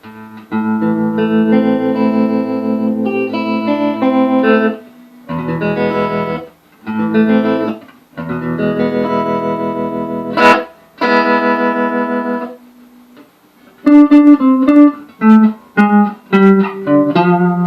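Vox Pathfinder 15R guitar amp with its tremolo engaged, electric guitar chords and picked notes throbbing in a steady pulsing volume wobble, loud and close with no talking.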